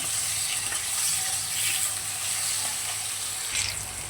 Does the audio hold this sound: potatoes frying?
yes